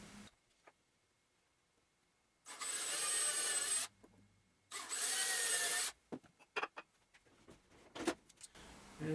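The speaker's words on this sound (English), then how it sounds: "And we're going to pre-drill the hole." A power drill pre-drills a hole in wood in two loud, close bursts of about a second each, separated by a short pause, followed by lighter handling knocks.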